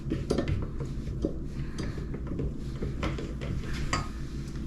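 Spatula scraping egg yolks out of a mixing bowl into a stand mixer, a series of soft scrapes and light clinks against the bowl, close and fairly quiet.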